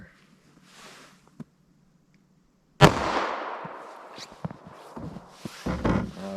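A single loud 9mm +P Hornady Critical Duty shot fired from a short barrel into ballistic gel, a sharp close blast after near silence, followed by a ringing decay and some handling clatter.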